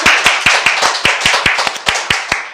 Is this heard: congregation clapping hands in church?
yes